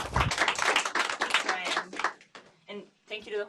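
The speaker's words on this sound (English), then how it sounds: "So let's give her a round of applause." Brief clapping from a seminar audience at a robotics center opens the clip, then quickly gives way to a speaker talking close to the microphone.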